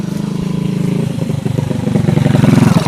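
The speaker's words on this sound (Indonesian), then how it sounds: "Pas ada motor" A motorcycle engine putters past on a village road, its low chugging rhythm growing louder and closer over a few seconds, steady and continuous.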